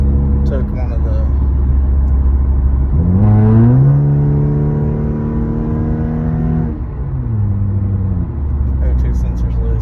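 From inside the cabin, a 2013 Acura TSX with its muffler deleted drones loudly, rising in pitch through a pull around three seconds in, holding, then easing back as revs drop.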